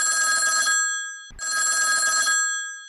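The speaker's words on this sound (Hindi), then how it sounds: "एक फोन आई" A telephone bell rings twice in quick succession, loud and close, with a short gap between the two rings.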